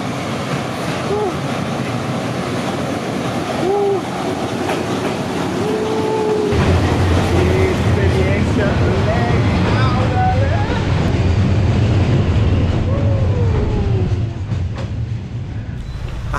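A train rumbles past about 1.5 metres away in Hanoi, Vietnam, very close and loud, steady clattering wheels and a heavy low roar filling the whole stretch, with faint voices underneath.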